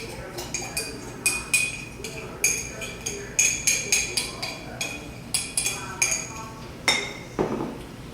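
Spoon clinking against a bowl while stirring biscuit dough made with milk, a run of light irregular taps, close and fairly quiet, under occasional talk.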